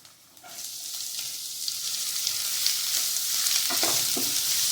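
Steady sizzling of chopped onion sautéing in a hot pan, with occasional stirring scrapes and clinks, no talking.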